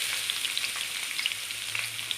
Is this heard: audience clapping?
no